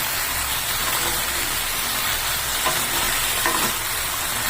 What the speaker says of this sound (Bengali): আর আমি পুরোটা আরো সুন্দর করে মিশিয়ে নিচ্ছি।